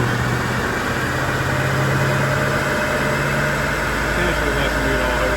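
Worn 265,000-mile C4 Corvette with an LT-1 V8 holding a steady, loud roar on a chassis dyno, a continuous drone with a strong low hum throughout.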